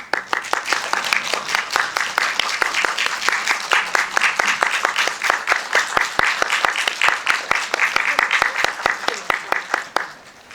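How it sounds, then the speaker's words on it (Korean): A theater audience at a film screening Q&A claps loudly and steadily as the director and actors walk in. Sharper individual claps stand out above the dense applause, which fades at the end. "들어오시면 큰 박수 부탁드리겠습니다"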